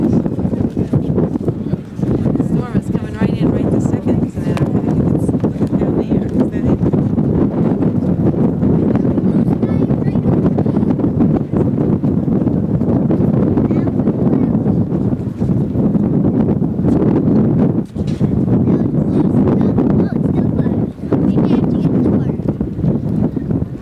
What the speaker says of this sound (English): I'm sure you're going to hear that wind.